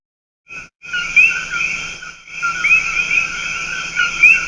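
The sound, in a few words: coqui frog call recording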